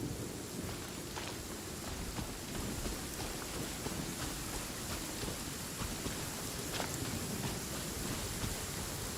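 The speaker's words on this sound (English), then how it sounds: "It's raining again." Steady, dense rain pours in a Genshin Impact game world, an even hiss of drops hitting surfaces without pause, with no voices over it.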